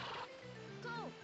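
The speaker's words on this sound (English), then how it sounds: "we are able to practice riding on our horse now." A horse in Harvest Moon: Grand Bazaar gives a short, wavering whinny that rises and falls near the end, over a steady layer of game music and talk.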